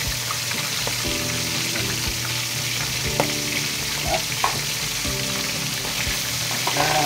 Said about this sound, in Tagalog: palakasin ko yung pagluluto natin ng salted egg